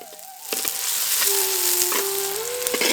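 Steady sizzling and crackling of chopped large onions frying in hot oil, close up, with occasional scraping stirs and a faint tonal hum underneath.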